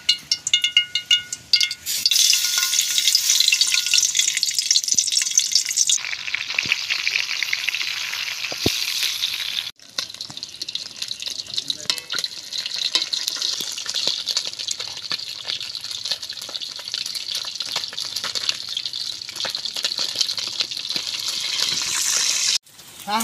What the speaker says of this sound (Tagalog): Ipiprito po muna natin itong isda.